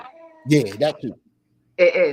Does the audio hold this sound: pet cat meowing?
yes